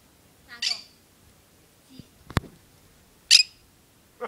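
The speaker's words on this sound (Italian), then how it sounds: "è tempo di vedere il pappagallo truzzo" A parrot gives two sharp, loud squawks spaced a few seconds apart, with a quieter call and a click between them in an otherwise quiet room.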